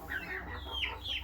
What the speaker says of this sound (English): it's a pet chicken